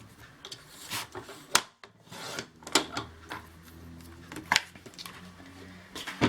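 Paper being trimmed to 5.5 inches for a folio album on a cutter, giving a series of short scraping, rubbing strokes with sharp clicks, close and fairly quiet, with no talk.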